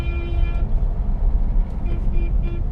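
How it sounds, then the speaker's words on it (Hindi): A car horn toots a long blast, then a few shorter honks follow amid rumbling traffic noise nearby in a crowded market street. "थोड़ा थोड़ा हॉर्न भी बजाते रहो"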